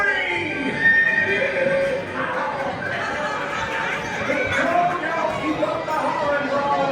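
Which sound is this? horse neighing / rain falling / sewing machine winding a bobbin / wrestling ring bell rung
horse neighing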